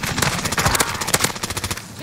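Rapid bursts of automatic gunfire from a Warzone video game firefight, dense overlapping shots close and loud throughout, with no talk.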